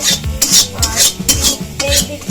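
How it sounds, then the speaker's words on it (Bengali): Potato, onion, bitter gourd and carrot frying together in a pan, heard as a close, rhythmic scraping of a spatula stirring the pieces in repeated strokes, with no talking. "এইদিকে ভাজা হচ্ছে আলু পেঁয়াজ করলে গাজর এই একসাথে মিক্স ভাজা হচ্ছে"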